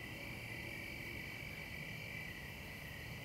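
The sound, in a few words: frogs croaking and crickets chirping at night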